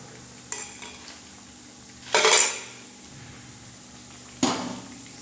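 Matthi, a rice-flour snack, fries in oil over low to medium flame. A steady soft frying hiss is interrupted by two loud metallic clanks of a utensil against the pan, with no talking.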